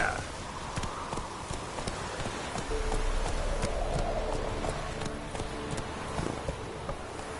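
Roach, a horse in The Witcher 3, with hooves clip-clopping in a quick, even rhythm at moderate distance, buzzing insects and faint ambience behind it.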